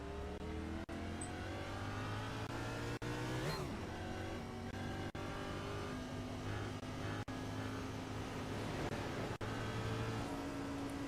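NASCAR Gen 6 race cars at Texas Motor Speedway in a racing video game, a loud continuous engine drone with steady high revs and brief pitch shifts, no talking.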